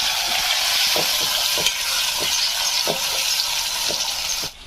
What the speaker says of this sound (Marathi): तर हे टोमॅटो मी याच्यात टाकते आता एक टोमॅटो घेतलेला आहे बारीक चिरून